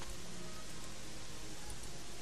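Steady rain falls in the video game Gothic 3, a constant soft hiss of drops with no breaks and no other sounds over it.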